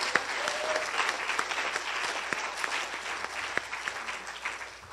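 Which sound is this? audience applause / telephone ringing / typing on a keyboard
audience applause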